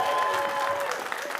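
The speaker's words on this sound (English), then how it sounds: "Give me a cheer if you want Sword and Sandals" An audience claps and cheers in a short, steady burst of applause, dense and fairly close.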